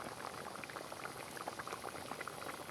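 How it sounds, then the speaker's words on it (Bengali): Water pouring and bubbling into a thin rohu fish curry broth with ash gourd in a pan, a steady close boiling gurgle with no pauses. "এবার ঝোলের জন্য জল দিয়ে দিব।"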